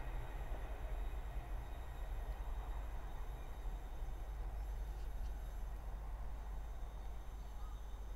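A Class 390 electric train passes at Linslade on the West Coast Main Line, a steady low rumble and rail noise at moderate distance with no break.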